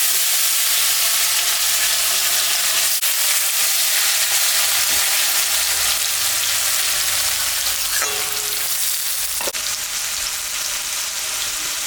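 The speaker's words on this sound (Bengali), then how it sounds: "আলুটা এখন ভাজিয়ে নিলাম।" Potatoes fry hard in hot oil in a home kitchen pan, a loud continuous hissing sizzle up close with a couple of sharp knocks from stirring, no voices over it.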